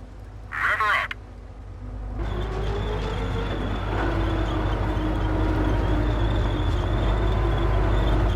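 A Sherman tank rolls forward in the World War II strategy game Company of Heroes: a heavy, steady engine rumble with track clatter starts after a brief blip and grows louder, continuing without pause.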